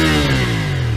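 The twin-cylinder engine of a 2022 CFmoto 450SR motorcycle revs high and close, holding a loud, steady buzzing drone for a brief moment.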